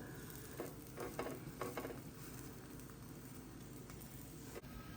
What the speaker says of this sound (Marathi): तसंच आपण आता खालच्या बाजून पण चांगला शेकून घेणार आहोत.